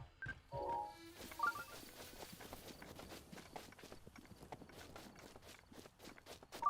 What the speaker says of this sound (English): is that a stall horse? Holy crap, it is a stall horse.